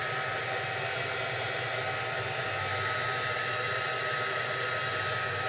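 A hair dryer blows on Shimmerz paint on framed art, making a continuous, steady whooshing roar close by that never changes in pitch.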